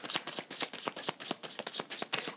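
Tarot cards shuffled rapidly by hand, a steady run of crisp riffling flutters and soft slaps, close and fairly quiet, with no voices.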